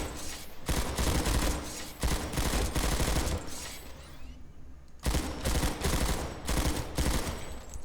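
Bursts of automatic rifle fire in the Planetside 2 shooter game crack out in rapid, loud volleys, separated by a brief pause before another sustained burst, with faint distant battle sounds in the gaps.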